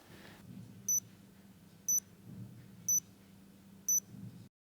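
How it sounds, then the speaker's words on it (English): An insulin patch pump beeps exactly four times, short high electronic tones evenly spaced about a second apart, clear and close over a faint low room hum. "The patch pump will beep 4 times."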